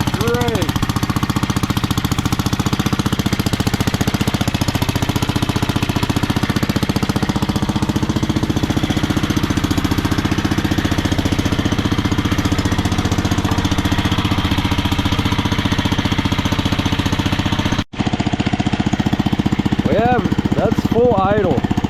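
Old, rare tractor engine running steadily after sitting unused for 26 years, a loud continuous rough mechanical clatter with a brief dropout near the end, people talking faintly over it.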